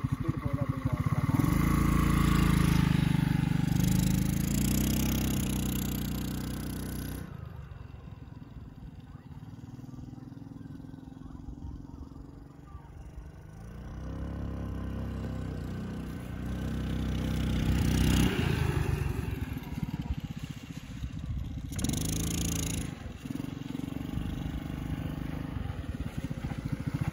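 A homemade mini RX100-style bike fitted with a scooter engine is ridden along, its engine droning steadily and swelling and easing as the speed changes, with wind noise mixed in.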